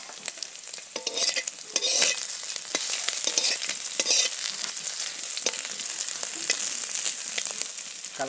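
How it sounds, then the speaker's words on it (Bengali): Parboiled potatoes and local cauliflower are fried in a pan with oil, sizzling and crackling steadily while being stirred, with sharp pops and scrapes from the utensil. "আলু ফুলকপিটা একটু ভেজে নিচ্ছি বন্ধুরা"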